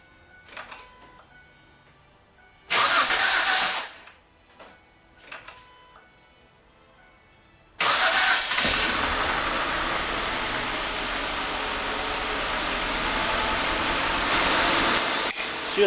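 A few clicks and a brief loud burst, then a car engine cranks and catches after spark plug thread repair, running loudly and unevenly with a rough, wavering idle that continues to the end.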